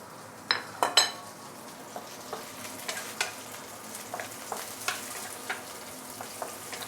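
Shallots, ginger, garlic and fresh coriander roots fry in hot oil for braised pork leg, a steady close sizzle broken by a few loud clanks of a utensil against the pan and lighter repeated stirring taps.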